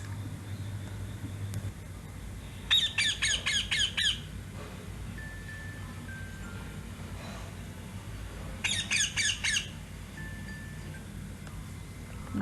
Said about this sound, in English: Yes, it's a parrot.